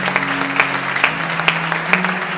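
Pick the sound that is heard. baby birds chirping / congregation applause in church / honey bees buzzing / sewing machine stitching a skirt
congregation applause in church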